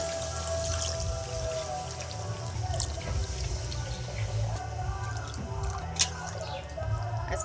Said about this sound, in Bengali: এই দেখুন এবার আমি জল দিয়ে দেবো